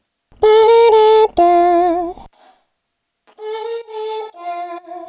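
A female vocalist hums a wordless, wavering melody meant as a layer under a lead synth, two sustained phrases close up and clear, separated by a short pause.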